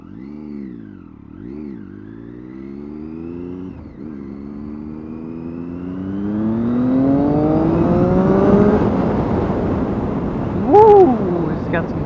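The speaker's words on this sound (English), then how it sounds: "I love the sound that it makes, the three-cylinder bike." A Triumph Daytona 675 three-cylinder motorcycle engine revs, its pitch climbing steadily as it accelerates through the gears, loud and close, with a brief sharper burst near the end.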